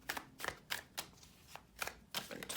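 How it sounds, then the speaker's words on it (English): Tarot cards being shuffled by hand, a series of quick crisp riffling bursts spaced in an irregular rhythm, close and fairly quiet. "We'll give it 12 shuffles."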